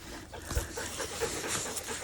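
A dog pants steadily in quick, soft breaths close by, outdoors at a mushroom-foraging spot.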